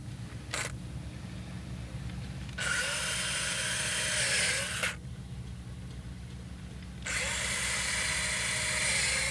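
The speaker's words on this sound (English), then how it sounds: "Go ahead and drill up our holes now." A power drill bores mounting holes into a fiberglass boat transom for trim tabs: a brief opening blip, then two long, steady, high whining runs of a couple of seconds each, close and loud against a quiet workshop hum.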